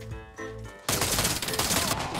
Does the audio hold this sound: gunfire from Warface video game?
yes